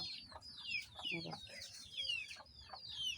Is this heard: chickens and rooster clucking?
yes